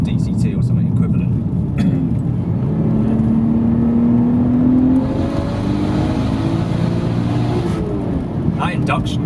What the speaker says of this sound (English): That induction noise is incredible, actually.